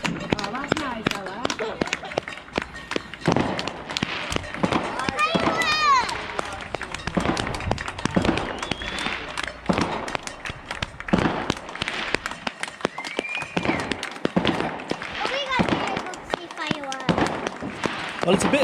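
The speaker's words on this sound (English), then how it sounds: "it's a bit light, so that's why you can't see the fireworks" Fireworks go off in daylight, with sharp, repeated bangs and crackles at an irregular pace throughout and occasional whistles. Voices and bustle from a crowd gathered outdoors run underneath.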